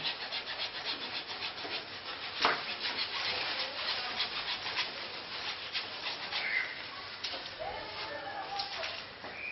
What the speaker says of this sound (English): I just happen to have a hacksaw blade in here